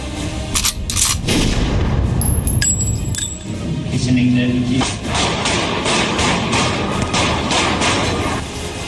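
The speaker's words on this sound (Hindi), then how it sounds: "चार सेकंड में 8 गोलियां बरसाकर" A quick string of sharp gunshots, eight shots in four seconds, cracks out in bursts, mixed with someone talking and heavy background noise.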